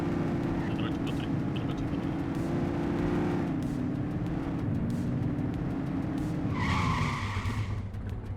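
Car tyres skidding under the handbrake in the police game The Precinct, a loud sustained screech that bends in pitch, under engine drone, with speech partly over it.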